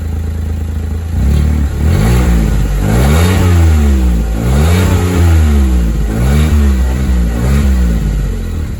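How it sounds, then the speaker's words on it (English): A Smart Fortwo 451 fitted with a homemade dual exhaust revs repeatedly, its engine note climbing and falling through about five close, loud throttle blips over a steady idle rumble, with no voices. "Let me rev it up a couple times for you."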